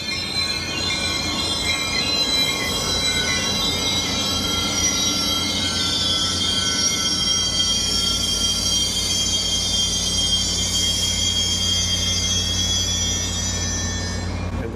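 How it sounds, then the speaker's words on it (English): Caltrain electric commuter train arriving at Palo Alto station, its wheels squealing loudly and steadily with high shrill tones over a constant rumble of the railcars, sustained for the whole stretch with no talk. "Now this train is arriving in the Palo Alto station"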